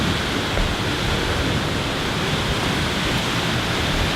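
A waterfall in Iceland roars steadily from just behind the falling water, a loud, dense, unbroken wash of spray and crashing water filling the whole moment.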